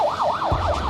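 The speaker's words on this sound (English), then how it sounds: "Ambulance coming pretty rapidly." An ambulance siren wails in a fast, regular rising-and-falling pattern, loud and close, with a low rumble of engine or traffic coming in partway through.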